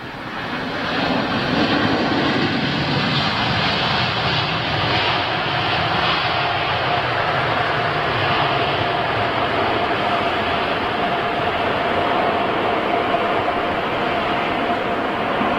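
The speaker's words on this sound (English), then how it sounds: "this is the second London livery that we've seen with Etihad coming in on their 380 this morning" An Etihad Airbus A380 lands at London Heathrow, its jet engines giving a loud, steady roar that holds throughout with a faint whining tone running beneath, close and without talk.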